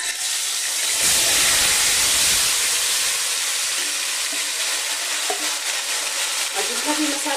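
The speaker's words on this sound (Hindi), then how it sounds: "ये जो हमने चिकन मैरिनेट करके रखा हुआ था, अब 15 मिनट हो गया है, अब इसे इसी में डालकर भूनेंगे" Marinated chicken added to roasted masala for biryani fries in a pan with a loud, close, continuous sizzle and hiss that flares up at first and then settles, with occasional stirring scrapes.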